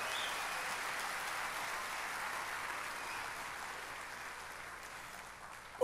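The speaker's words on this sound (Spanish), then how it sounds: "Dale el mejor aplauso que le hayas dado al Señor" A church congregation claps together in sustained, even applause that stays steady for several seconds before a sudden knock at the end.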